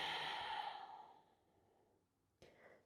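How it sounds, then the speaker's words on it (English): During a fascial core breathing exercise, a long exhale through the nose tapers off slowly into quiet, then a short, sharper breath follows at the end. "breathe in and out through the nose and breathe into that ball"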